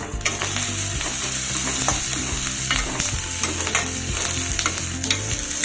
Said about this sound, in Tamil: மூணு பல்லு பூண்டு போட்டு வதக்கிக்கிங்க கொஞ்சம் இஞ்சி போட்டு வதக்கிக்கிங்க